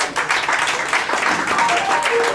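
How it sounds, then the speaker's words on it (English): Audience applause for a 23-year-old jazz musician at a tribute concert, a dense, steady wash of many hands clapping close and loud throughout, with no talk over it. "Can we give him a big round of applause?"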